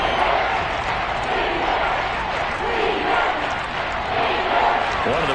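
Crowd noise fills a football stadium during a televised game ahead of a big third down, a dense, steady roar of many voices that swells slightly without pause and holds from start to finish.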